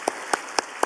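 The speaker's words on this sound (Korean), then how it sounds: "뜨거운 박수로 우리 축하합니다" Clapping during a Wednesday church service: four sharp, evenly spaced claps in a steady rhythm, close and distinct, with no voices.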